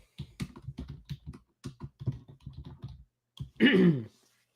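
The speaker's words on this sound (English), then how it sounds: "I'm typing our group while I'm waiting." Someone types on a computer keyboard at a trading desk, a few bursts of close, distinct keystrokes with short pauses between them, ending in a louder brief noise.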